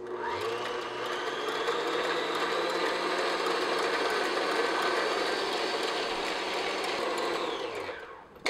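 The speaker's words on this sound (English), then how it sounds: "just beat this on medium speed until it's really nice and foamy" Electric mixer whisking egg whites for French macarons at medium speed, a steady motorized whir held for several seconds, then winding down at the end.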